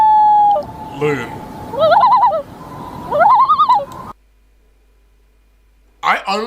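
A loon gives two loud, wavering tremolo calls in quick succession, each rising and warbling, followed by a sudden silence and a short final burst of sound.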